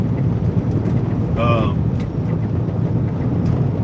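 Steady low engine rumble with broad wind roar from inside a moving car, continuous and fairly loud, with a brief faint tonal chirp midway.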